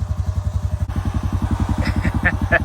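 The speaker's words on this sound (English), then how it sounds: "It's sitting here idling like nothing, like it's fuel injected or something." A fuel-injected vehicle engine idles smoothly on a steep trail, with a steady, even low throb close by and faint bird chirps in the background.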